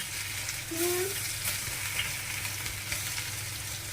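Chopped ginger and garlic frying in hot oil fill the air with a steady, close crackling sizzle, with a faint scrape of stirring and a brief soft squeak partway through. No one speaks.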